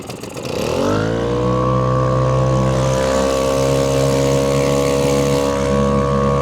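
A boat outboard motor on the water being broken in, opening to full throttle: the engine spins up within a second, then holds a loud, steady, high-revving drone close by.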